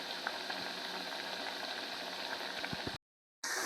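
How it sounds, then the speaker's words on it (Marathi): Methi vadi fry in oil over a medium gas flame, giving a steady, close sizzle that carries on evenly, drops out briefly, then resumes. "शेकून घेत आहोत तेलामध्ये आणि गॅस मिडियम ठेवलेला आहे"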